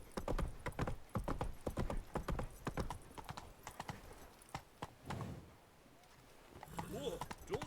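Hooves of Roach, Geralt's horse in The Witcher 3, pound out a fast rhythmic galloping clip-clop that eases off and pauses midway, then resumes with a snort, mixed with game ambience.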